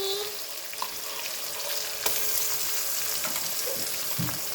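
A green paste of mint, coriander, green chili and ginger-garlic frying for chicken biryani sizzles loudly in a pot, with stirring scrapes and small pops over a steady hiss.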